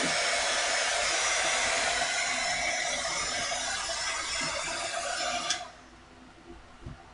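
Heat tool blowing hot air onto tape on a sticky art journal page, a steady loud whooshing roar that cuts off near the end, leaving quiet handling sounds.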